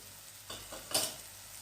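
Beans stirred with turmeric in a pan, two quiet scraping stirs over a faint low sizzle, with no voices.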